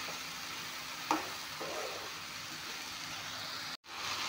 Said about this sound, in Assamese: এইখিনি অলপমান ভাজি লওঁ।